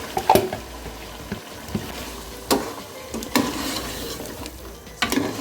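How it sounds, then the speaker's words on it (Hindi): Yogurt-marinated spice paste hits chicken frying in a pot for dum chicken gravy, giving a steady sizzle with a few sharp spoon-and-pan clanks as it is stirred, and no voices. "इसके अंदर हमने मसाला जो दही में मिक्स करके रखा था ये डाल देंगे।"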